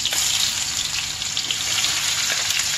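Onions hitting hot oil in an Adivasi home kitchen, a loud, continuous hiss and sizzle that stays steady throughout, close up, with no talking.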